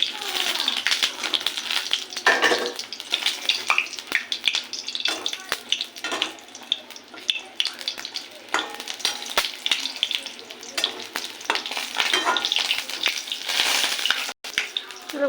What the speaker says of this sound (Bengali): বড়াগুলোকে ভেজে নিয়েছি, আর তুলে নেব।